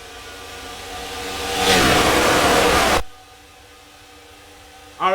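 Race truck engines in a NASCAR truck series game at Michigan swell into a loud roaring acceleration at the green flag, cut off abruptly, then a low drone and a brief renewed burst.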